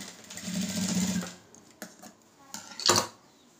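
A sewing machine top-stitching a lined blouse runs in a short close burst of rapid rattling, then stops, followed by a few sharp clicks and a metallic clack.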